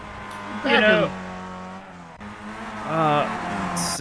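Race cars in the iRacing Formula Neagle series overtaking, engine whines sweeping upward twice as cars accelerate past, heard under a commentator's talk.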